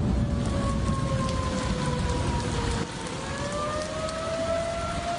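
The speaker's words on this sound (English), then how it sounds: "Lots of thunder last night along with tornado sirens." Heavy rain pours steadily during a storm while distant tornado sirens wail with slowly rising and falling tones, and low rumbles of thunder sound in the background.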